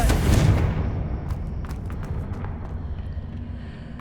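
A Confringo blasting spell explodes in the video game Hogwarts Legacy, a loud booming blast at the start that fades into a rumbling decay with faint debris crackles.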